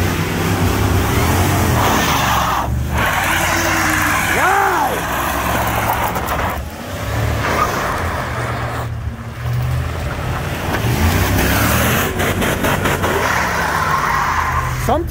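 A Dodge Durango AWD engine is revved hard toward redline, its pitch climbing and falling in repeated sweeps over a loud, close, continuous drone, with brief dips between pulls.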